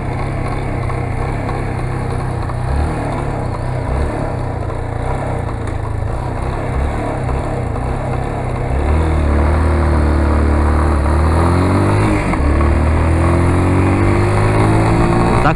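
A motorcycle engine runs continuously while riding on an avenue, with a steady drone and wind rush; partway through the pitch rises and sweeps as the bike accelerates and shifts, and stays loud and close throughout.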